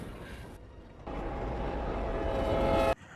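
Train in an animated film carrying a fleeing cartoon bull, a steady broadband rumble that swells and runs loud for about two seconds before cutting off abruptly, with a brief quieter stretch beforehand.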